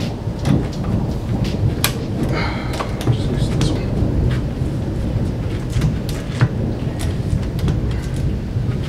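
A thunderstorm rolls outside, with thunder rumbling over a steady wash of heavy rain that continues throughout, loud and close.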